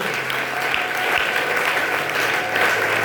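Steady, dense applause from a church seminar audience for the children, sustained at an even level throughout with a faint hum underneath.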